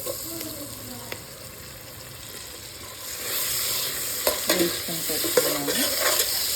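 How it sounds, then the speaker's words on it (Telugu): Onions and tomato fry in a pan for mutton biryani, with a soft sizzle under a few clinks and scrapes of a utensil that swell louder in the second half; a voice speaks briefly. "సిమ్లో పెట్టి వేయించుకున్నామండి"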